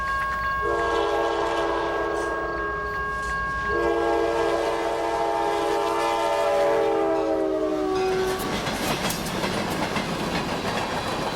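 Short freight train of covered hoppers heading into Lebanon, Pennsylvania, near sunset sounds two long horn blasts, then a loud rolling rumble of wheels as it passes close by.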